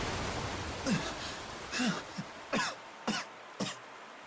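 A character coughs in the Tales of Xillia Remastered video game, five or six short, rough coughs in an irregular sequence, close and fairly loud over a soft hiss.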